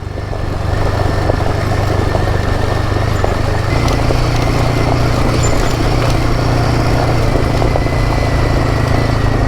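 Motorcycle engine droning steadily while riding a remote logging road, loud and close, with constant wind rush and a slight rise in pitch partway through.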